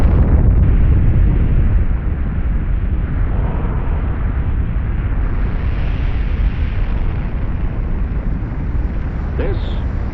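A nuclear test explosion from Operation Crossroads sounds as a loud, sustained, muffled rumble and roar that fills the whole stretch.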